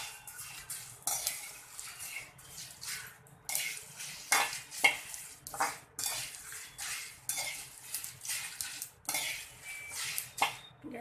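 Dried pomegranate seeds being dry-roasted and stirred in a pan for a chole masala, giving irregular bursts of scraping and clinking from spoon against metal, close and fairly quiet, with no talking.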